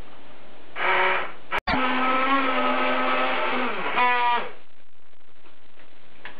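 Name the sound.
blender pureeing butternut squash soup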